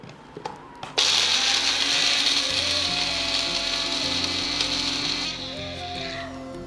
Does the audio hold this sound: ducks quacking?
no